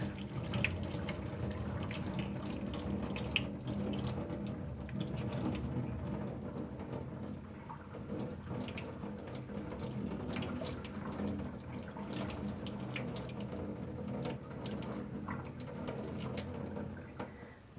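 Steady running water rinses a flotation sample of plant material through a screen, a continuous close splashing wash with faint metallic rattles of the screen, and no talking.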